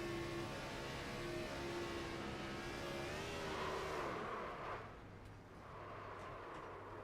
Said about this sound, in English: listen to the 91 lift the throttle